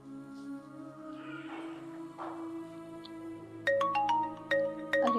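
A phone ringtone of an outgoing call starts partway through as a bright, rhythmic electronic melody, loud and close, following a quieter stretch of steady tonal background hum.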